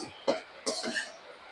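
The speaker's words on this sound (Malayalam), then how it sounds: "എല്ലാവരും ചുമച്ചു തുടങ്ങി" Two or three short, sharp coughs erupt close by, spaced under a second apart, as chili fumes from mango pickle being made sting the throat; a voice is faintly present in the background.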